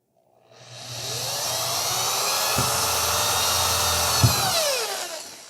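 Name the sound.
power drill drilling holes at marked spots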